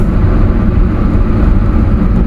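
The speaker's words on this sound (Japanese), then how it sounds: "合法の爆音マフラーです。 なので音はいい音します。" A loud, deep, rumbling exhaust from an Alfa Romeo 4C with a straight-pipe muffler lacking a silencer drones continuously up close, a steady throaty roar with no talking.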